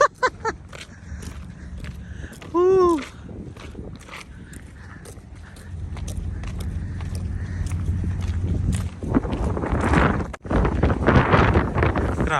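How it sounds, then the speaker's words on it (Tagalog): Strong gusts of wind buffet the microphone with a low roar that builds toward the end, broken by scattered knocks and a brief animal call. "Grabe, lakas ang hangin."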